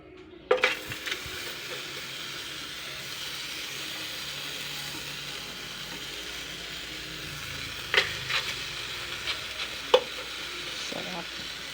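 A pork chop laid on a hot grill pan gives a steady, broad sizzle throughout, with a few sharp clinks and taps near the start and again later as it is placed and moved.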